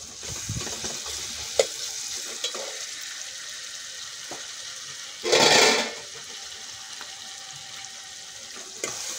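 Curry leaves dropped into hot oil while making an Andhra-style fish curry crackle and sizzle steadily, with a loud, brief hissing burst partway through and a few faint stirring clicks around it.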